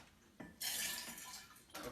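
Stream water splashes into and rinses a container in two short bursts, a close, faint rush of water after a small knock.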